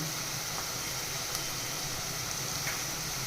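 Turmeric powder being stirred into browned onions frying in oil for a country chicken dish, a steady continuous sizzle and hiss with faint scraping, no voices.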